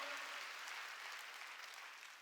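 A church congregation claps together in a faint, continuous wash of applause that fades slightly toward the end.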